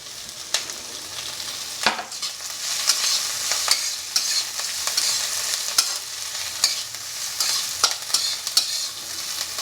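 Onions fry in oil with a bright, continuous sizzle, while a spoon scrapes and knocks against the pan in a steady, repeated stirring rhythm.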